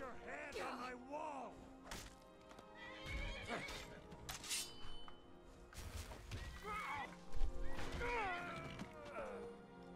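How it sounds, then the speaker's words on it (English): Horse neighing and whinnying several times alongside clip-clop hoofbeats and occasional thuds, with game-like sound effects around it, in the video game Skyrim. "Park up my horse."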